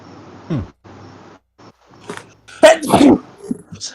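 A person in a small recorded discussion sneezes sharply and close to the microphone, a single burst amid quiet background and faint voice fragments.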